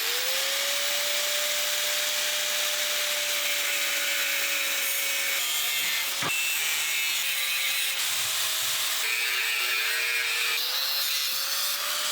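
A power tool cuts through the frame of a Gilera Runner moped, a loud continuous grinding whine that holds a steady pitch, dips briefly midway and then carries on.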